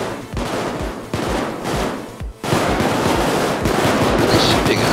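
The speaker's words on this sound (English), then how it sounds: "What are they shooting at?" Sustained gunfire in the heist video game Payday 2, with dense overlapping bursts of automatic shots rattling nearly nonstop, a brief drop in the middle before the loud barrage resumes.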